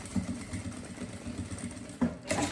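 A sewing machine stitches a small fabric pouch, a nécessaire-style bag, with a steady close motor whir and rapid needle rhythm running throughout, briefly rising in pitch near the end.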